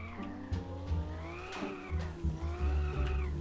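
A car drifts in the game Car For Sale Simulator, its engine droning while tyres squeal in rising and falling arcs. The sound is steady and moderately quiet.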